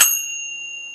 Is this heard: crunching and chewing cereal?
no